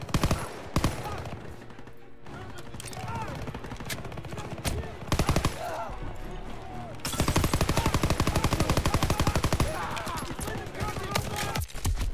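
Rapid bursts of automatic gunfire from Call of Duty WWII hammer almost continuously, with a denser stretch of repeated shots in the second half; a voice talks over the shooting.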